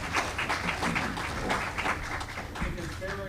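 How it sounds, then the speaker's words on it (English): A panel discussion audience gives a quiet round of clapping for the panelists, soft and fairly even throughout, with talking mixed in. "We give one more round of applause."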